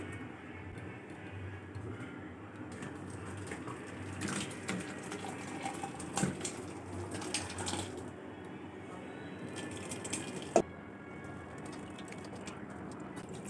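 Tap water runs steadily while fresh chhana cheese curds are rinsed in a home kitchen for gulab jamun, a continuous moderate wash with a few brief clinks and splashes, no talking.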